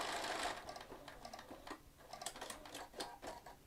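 A Bernina sewing machine runs in quick rhythmic bursts of mechanical clatter, stopping and starting briefly, fairly faint and close.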